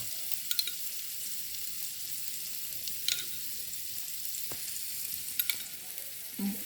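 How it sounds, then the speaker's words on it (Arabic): Onions sizzle steadily in a pan, a soft continuous hiss close by, with occasional light scrapes and taps as they are stirred. "صافي كنحرك البصله ديالي"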